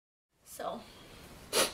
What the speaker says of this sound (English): Oh, got a sneeze.